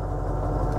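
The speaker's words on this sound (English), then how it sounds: "Kobota pony motor" A Kubota pony motor on a 2008 GMC forestry bucket truck runs at a steady idle, a continuous close low drone with no other sounds.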